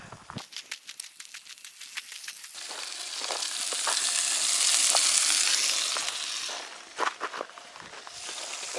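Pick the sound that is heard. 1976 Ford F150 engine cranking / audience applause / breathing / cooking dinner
cooking dinner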